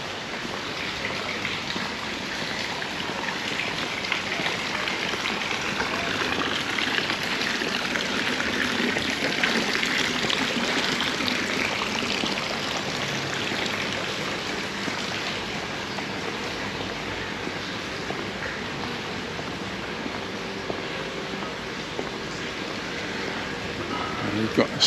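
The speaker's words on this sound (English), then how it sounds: "Nice little water feature." A small water feature in Puerto Portals port, Mallorca, trickles and splashes in a steady, moderately quiet wash, with faint voices in the background.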